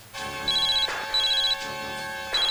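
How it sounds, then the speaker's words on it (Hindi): A telephone rings in repeated electronic bursts, a bright warbling tone sounding three times with short gaps, clear and close. "देखो किसका फोन है।"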